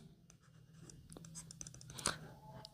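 Pen scratching out a maths solution on paper, quiet close strokes with a few sharper taps and scrapes, no talking.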